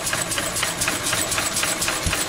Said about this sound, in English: I've got to stop the engine and do a little adjustment